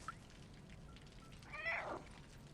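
A cat meowing in the Stray video game, a single short, fairly faint meow about two-thirds through over quiet background ambience.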